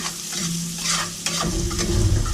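Sour cream, soup and pepper sauce simmering on low in a pan while a spatula stirs through it, making a close, continuous soft sizzle with a few scraping strokes.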